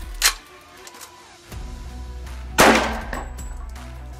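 A .45 ACP pistol-caliber carbine fires a single loud shot at an outdoor range, followed a moment later by a sharp crashing clatter of bowling pins being knocked down, with a low rumbling background.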